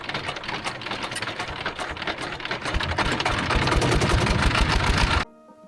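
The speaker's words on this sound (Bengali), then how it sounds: "শান্ত এই নদীর বুক চিরে বয়ে চলছে আমাদের ছোট্ট খেয়া নৌকা।" Small wooden ferry boat on a calm river, its engine chugging loud and close in a fast steady rapid knocking rhythm that grows heavier before cutting off abruptly near the end.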